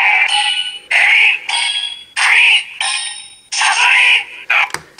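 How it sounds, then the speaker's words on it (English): A CSM Kamen Rider OOO Driver toy belt scans medals and answers with loud electronic voice readings, in a string of short bursts separated by brief gaps. "the medals actually have different voice readings than the original"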